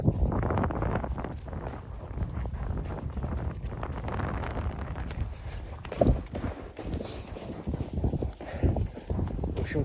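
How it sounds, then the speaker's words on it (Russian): Horses ridden fast on a winter ride up Irandyk give steady hoofbeats, with wind buffeting the microphone throughout and a few louder hoof thuds standing out. "Несут нас во весь опор."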